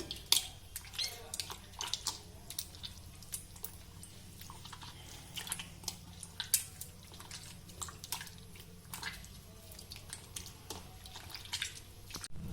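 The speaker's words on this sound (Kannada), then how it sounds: "ಈಗ ಈ ಹಿಟ್ಟಿಗೆ ನಾವು ಸ್ವಲ್ಪ ಸ್ವಲ್ಪ ನೀರು ಹಾಕ್ಕೊಂಡು ಇದನ್ನ ತೊಳ್ಕೊಬೇಕು" Soft wet squelching and dripping sounds repeat irregularly as maida flour dough is squeezed and rinsed in water, quiet and close.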